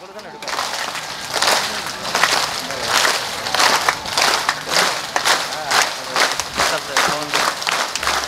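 An audience at a kirtan during the Wari pilgrimage claps in unison, steady rhythmic hand claps repeating about twice a second, loud and close, with voices chanting underneath.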